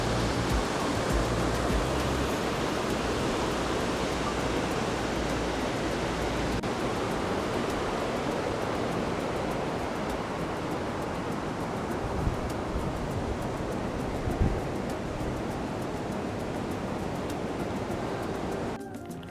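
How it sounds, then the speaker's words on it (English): Kepler Cascades, a small waterfall in Yellowstone National Park, rushes in a constant, full-bodied roar, close and steady with no voices. "So here we have the Kepler Cascades, which is a very lovely little waterfall."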